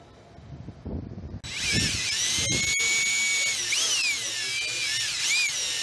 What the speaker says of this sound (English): I'm drilling out the front axle for a cotter pin